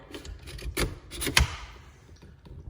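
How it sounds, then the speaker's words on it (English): Charging handle on a Kel-Tec Sub2000 carbine racked to cock the hammer, giving a few sharp metallic clacks and a sliding rasp close by, with no talk. "take our charging handle and rack it to cock our hammer"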